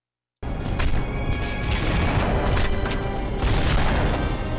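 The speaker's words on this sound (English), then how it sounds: "everyone's still shooting at me and I can't kill them" Enemy gunfire in The Punisher on PS2 comes as loud, continuous bursts of shots and booms, close and dense, starting suddenly after a moment of silence.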